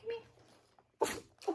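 A sharp, sudden sneeze bursts out close by, followed by a shorter second one, with a few brief spoken words around them.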